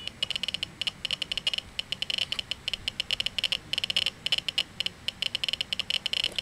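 Iron Man Unibeam chest prop in battle damage mode gives off rapid, irregular crackling and sputtering electronic clicks, like a glitching, damaged device, steady for several seconds with no talking.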